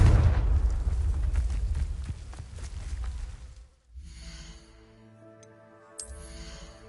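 The Confringo fire spell in Hogwarts Legacy bursts as a loud, roaring explosion that rumbles and fades over a few seconds, followed by a quieter, ringing magical tail.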